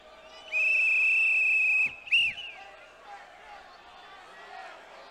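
A coach's whistle blown once in a long, shrill, steady blast at a wrestling event, followed by a short second chirp, with crowd noise beneath.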